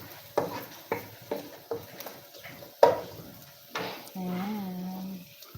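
Garlic and onion sauté in a pan at home, a few short stirring scrapes and light sizzling coming in bursts, with a person talking over it in the middle and a steady hum near the end.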